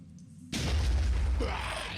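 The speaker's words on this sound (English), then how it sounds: "So let's get the second grenade going." A grenade blast in the tactical game Phoenix Point, a sudden loud boom after half a second of quiet, then a broad rumbling roar that slowly fades, with debris-like crackle trailing off.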